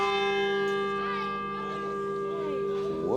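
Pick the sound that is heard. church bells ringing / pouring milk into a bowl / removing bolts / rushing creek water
church bells ringing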